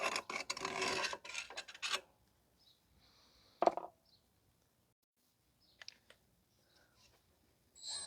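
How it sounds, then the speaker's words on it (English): A screwdriver scrapes rust off the backing plate of a 2014 Chevrolet Sonic 1.8 rear drum brake: a dense rasping burst for about two seconds, then sparse scratches and clicks, close and with no speech. "You can use a screwdriver to go around here if you want, to get rid of all the rust."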